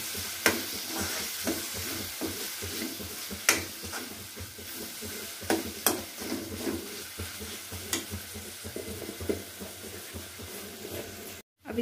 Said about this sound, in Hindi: अब इन मसालों को अच्छी तरह से मिक्स कर लेंगे।